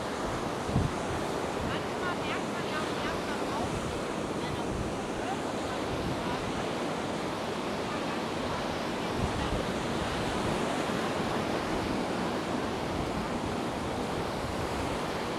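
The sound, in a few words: rough sea waves at Paguera, Mallorca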